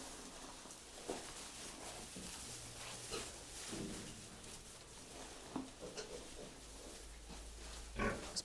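Pigs grunting and snuffling nearby while feeding, with soft rustling and occasional clatter over a steady outdoor background, on a farm in Ukraine's Rivne region.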